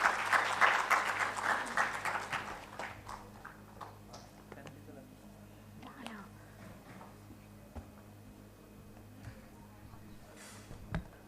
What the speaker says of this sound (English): Can we please clap?